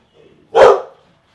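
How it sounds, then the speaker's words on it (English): A single loud, close dog bark rings out sharply and then cuts off into quiet. "with all the stuff going on and all the dogs barking"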